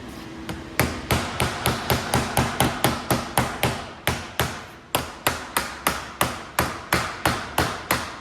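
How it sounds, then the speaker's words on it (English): Steady hammer blows ring on sheet metal being shaped into a custom car boat tail, around two dozen loud, evenly spaced strikes in a brisk rhythm, close up with no talking. "hammering will be taking place"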